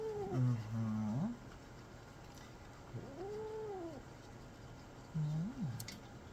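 A cat cries during a bath in a series of drawn-out, wavering meows and yowls, three distinct cries spaced across the moment, fairly close and plaintive.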